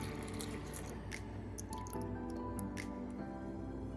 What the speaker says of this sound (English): You're doing about a little bit more than half a cup of your plant milk.